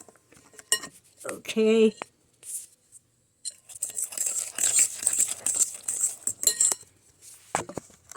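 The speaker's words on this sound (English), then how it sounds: "Put them in with the eggs all at once and mix it up with the fork real good" A fork beats brown sugar into eggs in a mixing bowl for fruitcake batter, giving close, irregular clinks and scrapes against the bowl with quiet pauses between bursts; someone says a single brief word.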